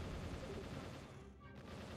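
Rapid auto-fire bursts from a plasma cannon on a ship in Star Fox Assault, a dense rattling barrage mixed with game noise, fairly quiet and continuous with a brief dip midway.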